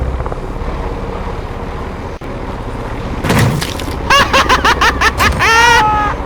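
Helicopter in the Plunder video game, a dull rotor rumble that swells and then stutters into rapid chopping pulses, mixed with crackling gunfire and other game effects, fairly loud and close.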